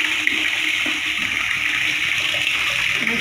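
Water running steadily from a tap fitted to a shower in a bathroom, a loud continuous rushing and splashing with no breaks.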